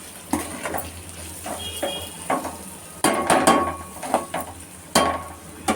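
Grated beetroot and carrot stir-fried with chilli powder in a pan over a slow flame, with a spoon scraping and tapping the pan repeatedly over a soft, steady sizzle and no talking.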